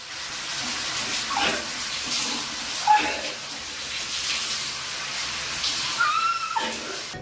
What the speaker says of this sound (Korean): 자 찬물 샤워부터 그러면 오늘 시작을 해보겠습니다